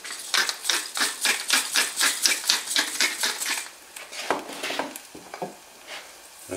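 A spoon stirring a balsamic vinegar reduction in a bowl or pan for beefburgers, giving quick rhythmic scraping and clinking strokes that come close and steady at first, then slow and thin out.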